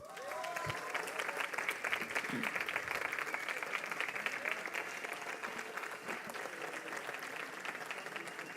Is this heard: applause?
yes